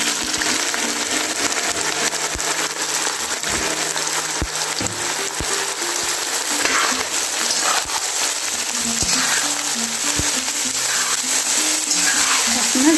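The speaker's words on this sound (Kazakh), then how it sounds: "Қазанымызға 500 мл сұйық май құйып, жақсылап қыздырдық, үстінен туралған пияз саламыз." Chopped onions frying in 500 ml of heated oil in a pot, a loud, close, continuous sizzle and crackle, with scattered clicks and knocks over it.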